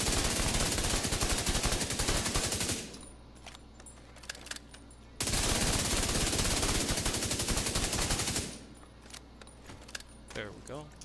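An assault rifle in The Division 2 fires two long, continuous automatic bursts into a target. Each burst is loud, rapid and metallic and is followed by quieter stretches where someone talks.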